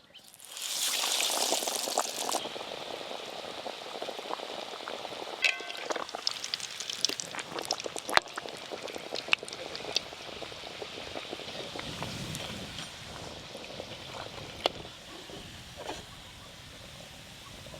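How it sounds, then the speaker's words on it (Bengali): Egg cutlets fry in hot white oil on a home stove, with a soft continuous bubbling sizzle and occasional crackles and small pops, close by and fairly quiet. "সাদা তেল, তেল ভালো করে গরম হয়ে গেল। এবার আমি কাটলেটগুলো ভাজবো।"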